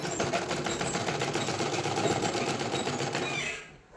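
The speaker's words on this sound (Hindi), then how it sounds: "तो यहाँ पे हम सिलाई स्टार्ट करेंगे, सिलाई को पक्की करते हुए।" A sewing machine stitching a boy's night suit along a sleeve toward the shirt's end runs in a steady, fast, close rattling whir for several seconds, then stops abruptly.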